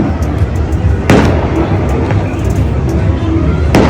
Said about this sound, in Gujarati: હમણાં જ તે જો ફટાકડા ફૂટવાનું શરૂ પણ થઈ ગયું છે